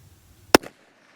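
A single sharp, loud crack from a Volquartsen Scorpion .22 WMR pistol fired at close range outdoors, followed by a brief ringing echo, with no talking.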